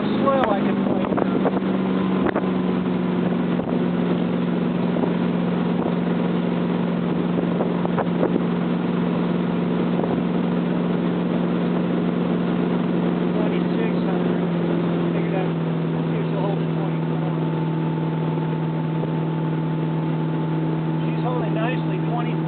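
A motorboat engine drones steadily at a constant pitch, with wind buffeting the microphone and occasional voices under the engine.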